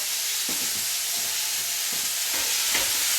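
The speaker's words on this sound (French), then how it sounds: "Donc vous remettez votre viande pour la saisir pendant 2-3 minutes" Veal pieces searing in a pan, a loud continuous sizzle with a few soft low knocks of meat being moved, no voices.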